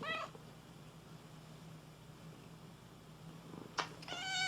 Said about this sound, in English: I know that the cat loves catnip. In fact, she's right here.